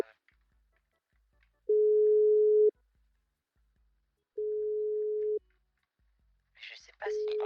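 Telephone tone while placing a call: two long steady beeps about a second each separated by silence, then a third begins as a voice briefly speaks just before it.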